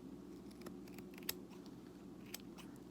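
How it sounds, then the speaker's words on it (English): Scissors snip through a disposable face mask in a quiet room: two sharp, close cuts stand out over a low, steady background hum. "So what I do is I'm just going to cut it"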